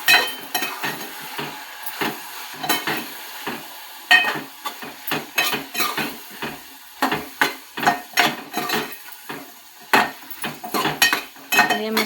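Spatula scraping and stirring spices like coriander powder and dried fenugreek into food in a pan, repeated close clacks and scrapes in an irregular rhythm, with a faint sizzle beneath and no voices.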